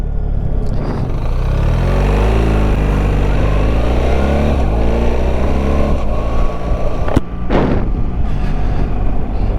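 BMW R1300 GS motorcycle pulling away on a road, its engine rumbling loud and close with rising, steady harmonics as it gains speed, plus wind buffeting and a brief gap near the end.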